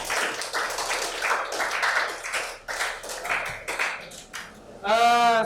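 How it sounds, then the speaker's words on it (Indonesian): Classroom group clapping in a steady rhythmic burst of many hands, close and lively, ending as a voice or bleating-like tone cuts in at the close. "Tepuk tangan terlebih dahulu."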